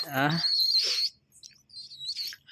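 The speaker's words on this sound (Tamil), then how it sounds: "இன்னுமே உனக்கு குஞ்சு சவுண்ட் தானே கேட்குது" A young pet pigeon calls with high, thin squeaky chirps, one close burst at the start and fainter repeated peeps afterward, with a voice briefly sounding near the beginning.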